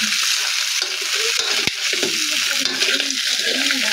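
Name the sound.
crab added to sizzling Bicol Express in pan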